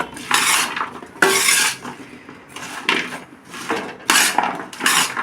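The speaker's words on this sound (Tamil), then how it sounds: "மஞ்சள் தூளை வச்சு நல்லா மிக்ஸ் பண்ணிவிட்டு" Vegetables being mixed with turmeric powder in a pot for Kerala-style aviyal, with loud bursts of utensil scraping and clattering against the pot in several separate strokes, close and without talk.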